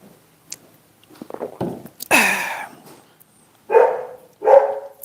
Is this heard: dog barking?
yes